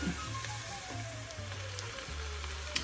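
Wild-caught Atlantic salmon sautés in a pan, a soft, steady crackling sizzle heard fairly faintly and continuously with a low hum underneath.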